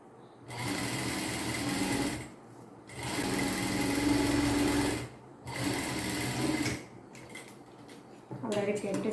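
A sewing machine stitches a kurti in three bursts of loud, close, steady mechanical whirring separated by short pauses, ending with brief clicks and handling noises.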